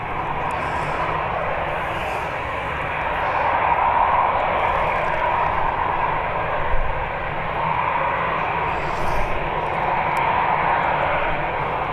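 An Emirates jet airliner at Birmingham Airport gives a loud, steady engine roar that swells slightly midway and holds throughout, without speech.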